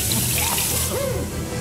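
Water spraying in Luigi's Mansion 3, a steady rushing hiss like a running tap, with brief whistling tones over it.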